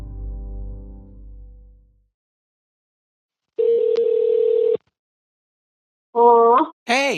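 A telephone line gives electronic ringing tones before the call is picked up: a low fading hum, a pause, then a sustained buzzing tone and two shorter rising beeps, clear and close.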